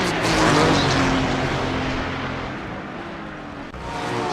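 Race cars in the iRacing sim, including Porsches, roaring past in a loud, continuous engine drone that swells early and slowly fades as they pull away, with no talking.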